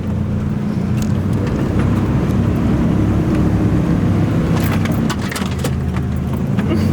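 A Ford E150 two-wheel-drive van's engine drones steadily as it climbs uphill, a loud low rumble filling the whole stretch with faint rattles and clinks on top.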